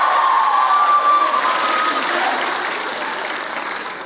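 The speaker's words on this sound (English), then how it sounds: "Somebody clap your hands right there." A large audience claps and cheers loudly at an OYC 2018 session, a dense, steady burst of applause with whoops that gradually tapers off over four seconds.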